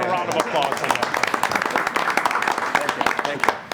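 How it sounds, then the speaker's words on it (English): A room of people at a zoning board of appeals meeting claps for a colleague's birthday, dense steady applause lasting several seconds with voices mixed in. "How about a round of applause for that?"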